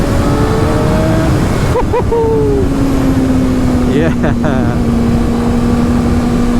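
Kawasaki ZX6R motorcycle fitted with a LeoVince LV One EVO exhaust, loud and close, revving with rising and falling engine pitch over a steady drone, with a brief voice speaking.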